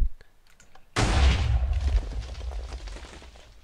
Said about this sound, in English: Did you see the size of that explosion?